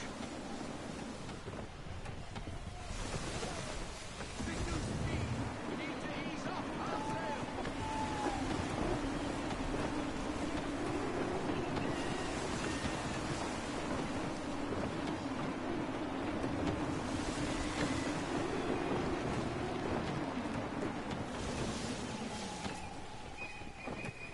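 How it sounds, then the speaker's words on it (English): Gusty wind and rolling sea waves wash continuously around a sailing ship in Assassin's Creed III Remastered, a steady roar with some swells and a few faint voices. "Gusty winds can be difficult to manage"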